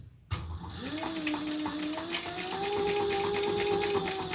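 Sewing machine runs a continuous row of stitches through a leather bag, a rapid even mechanical chatter with a whining motor tone that starts abruptly and holds steady, close up.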